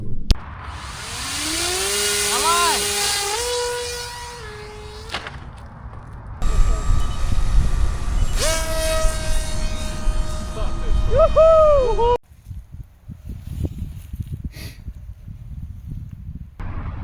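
A drone motor on a 6S ESC, spinning a 7.5-inch propeller, runs on a test bench. It winds up to a loud, steady high-pitched whine with pitch sweeps, spins up again after a short drop, and then cuts off abruptly.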